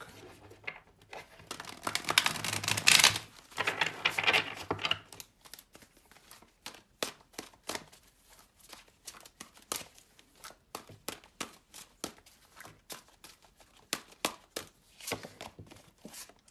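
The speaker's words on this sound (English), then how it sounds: "Let's get one more good shuffle. This is a big deck." Rapid papery riffling and crisp card snaps as a large tarot deck is shuffled, louder at first, then a string of lighter taps and flicks, close by with no talking.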